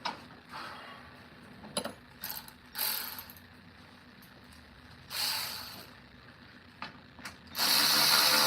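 A ratchet drives sheet metal screws back into place, giving short bursts of close mechanical clicking with pauses between them, then a longer, louder stretch of ratcheting near the end.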